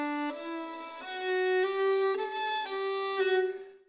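A solo violin plays a short run of sustained notes, close and clear, with the left-hand fingers not articulated firmly. Each pitch change arrives every half second or so and sounds soft-edged and blurred.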